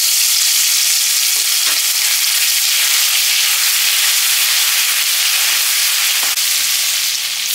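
Garlic paste sizzles in hot oil while chilli fish with catla is being cooked, a loud, steady, close hiss of frying that runs the whole time with no voices.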